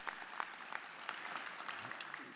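Faint, continuous applause from a graduation ceremony audience greets a singer, with a dense patter of many hands throughout.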